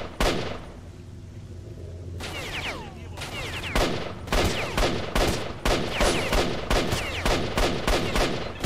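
A gun in the STALKER video game fires repeatedly. Loud, closely spaced shots build into steady rapid bursts after a quieter opening stretch.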